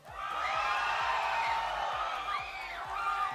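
Fans at a Guwahati LAN esports watch party during the Northeast Cup semifinal cheer and shout for the Manipur squad Meow Meow Gang, a loud continuous roar with rising whoops over pulsing background music.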